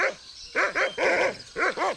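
A dog in the adventure game Monkey Island 2: LeChuck's Revenge lets out a rapid series of sharp, close barks in quick bursts, with short pauses between groups.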